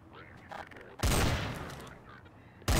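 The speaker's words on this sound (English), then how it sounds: "Nice shooting, man." Bursts of gunfire in a shooter video game, a crackling volley that starts abruptly, decays over about a second and a half, then another loud burst cuts in at the end.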